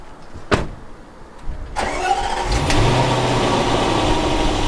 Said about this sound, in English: Here's a cold start on a 2014 Range Rover supercharged V8.